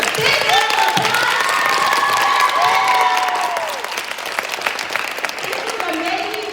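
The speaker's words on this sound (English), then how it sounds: "let's give these amazing ladies a big round of applause" Conference audience applauding speakers, steady clapping with some cheers and whoops, a voice speaking over it with rising tones before the clapping fades somewhat.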